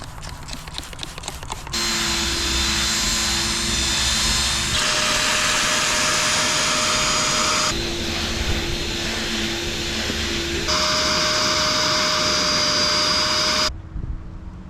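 Wet vac sucking cleaner out of Subaru GC8 WRX rear seats, a loud steady whining suction broken into several long passes with brief changes in pitch between them, cutting off at the end.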